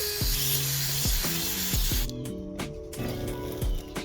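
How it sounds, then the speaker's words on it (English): Carburetor cleaner sprays in short repeated bursts through the ports of a Safari Turbo carburetor, hissing close up with brief pauses between blasts and a few faint clicks. "I'm confident it's cleared when I see the carburetor cleaner spray shoot out the different ports."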